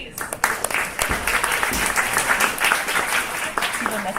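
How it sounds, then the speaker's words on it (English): Audience applause at a Seoul Tech Impact 2024 project presentation: a sustained wash of clapping from a room of people, with voices talking over it. "let's do a round of applause,"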